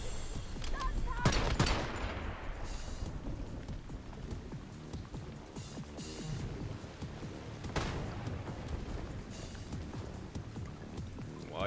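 Gunfire in a video game demo, scattered sharp shots and bursts at fairly low level over a hissing, rain-like background, with a couple of louder cracks standing out.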